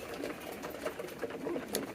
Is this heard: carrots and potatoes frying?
no